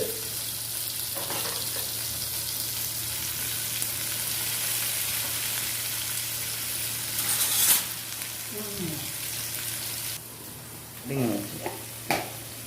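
Two onions frying in a pan for bachelor-style pasta, a steady low sizzle with occasional stirring scrapes and a few brief louder clatters near the end.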